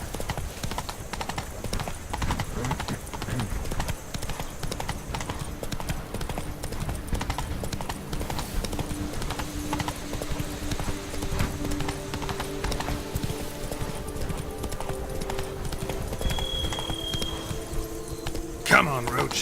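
Roach, a horse in The Witcher 3 video game, trots along with rhythmic, close hoofbeats that run steadily over background game ambience, with a brief tonal sound near the end.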